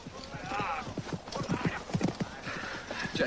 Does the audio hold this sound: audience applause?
no